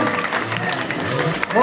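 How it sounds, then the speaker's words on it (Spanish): Crowd applause at an outdoor motorcycle gymkhana during a town festival, a steady wash of clapping over background chatter, with a voice rising briefly near the end. "un aplauso para animarlo"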